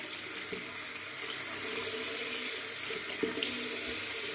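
Tap water runs steadily into a sink to wet a Yaqi synthetic 24mm shaving brush, a continuous close hiss with a few faint knocks and splashes.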